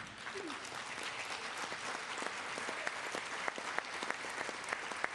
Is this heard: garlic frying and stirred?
no